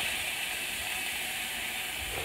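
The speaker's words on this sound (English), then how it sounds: "Remember I talked about the sizzle. Man, you got a sizzle now." Steady, loud sizzling hiss of steak searing in a hot pan, continuous and close, with no voices.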